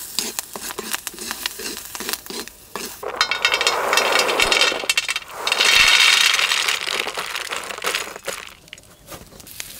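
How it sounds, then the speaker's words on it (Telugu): Green chillies, curry leaves, tamarind and cumin frying in a pan with salt: sizzling and crackling with a spatula stirring and scraping, rising to a louder, steady fry in the middle, no voices. "4 ఆకులు కరివేపాకు, కొంచెం చింతపండు, 1 చెంచా జీలకర్ర ఇవన్నీ వేసుకుని ఒక్కసారి అలా కలిపి రుచికి సరిపడా ఉప్పు వేసుకుని బాగా వేయించుకొని"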